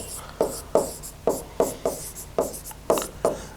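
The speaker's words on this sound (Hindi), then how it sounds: "तो आप लिखेंगे" Chalk or pen strokes during a physics lecture on alternating current circuits, a series of about nine short, evenly spaced scratchy strokes, fairly close and clear with no talking.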